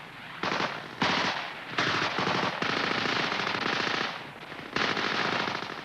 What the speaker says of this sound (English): the cover group puts down suppressive fire with everything they've got